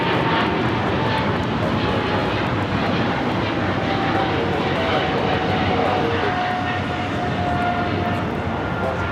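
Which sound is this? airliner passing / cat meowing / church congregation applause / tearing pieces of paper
airliner passing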